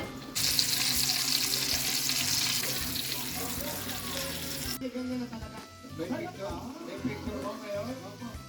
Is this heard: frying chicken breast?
yes